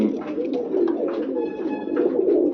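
A pet pigeon coos close by in soft, throaty, repeated phrases that roll on without a break for the short stretch.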